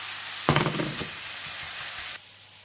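Ingredients for Afghani pulao frying in a pan, a sudden sizzle when added that settles into steady frying hiss before cutting off, close and moderately loud with no talk.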